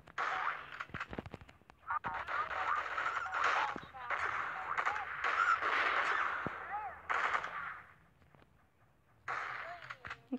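Video game gunfire crackles in rapid bursts of automatic shots, fairly loud and mixed with game sound effects, while a player talks over much of it.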